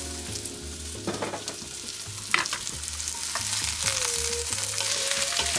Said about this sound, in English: And we're going to saute this down until it gets caramelized on all sides